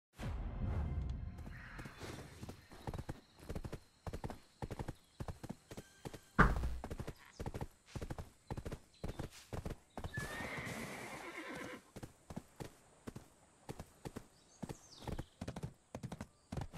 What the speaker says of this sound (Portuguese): O cavalo nessa água aqui não vai afogar, não.